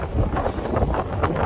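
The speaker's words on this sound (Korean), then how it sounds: "항상 이렇게 돌풍이 부는데" Strong gusty wind buffets the microphone at a seaside fishing spot on an island as the tide comes in, a loud continuous roar that surges and falls.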